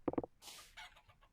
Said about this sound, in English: And now we have 2 baby roosters from generation 2.